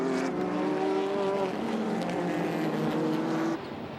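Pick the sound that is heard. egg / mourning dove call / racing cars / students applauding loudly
racing cars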